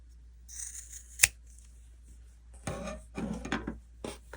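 Scissors snip through knitting yarn, with one sharp close cut followed by several quicker crunchy snips, all alone without talk.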